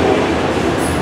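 A Norfolk Southern freight train with autorack cars, including ex-Conrail equipment, rolls past close by in Spartanburg, South Carolina, giving a brief, loud, steady rumble of wheels on rails with no voices.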